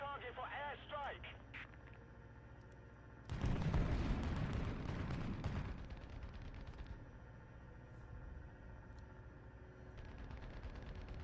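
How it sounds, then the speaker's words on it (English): An airstrike in a video game lands as a heavy, rumbling burst of explosions lasting a couple of seconds midway, over steady game audio, with voices present. "Request target for airstrike."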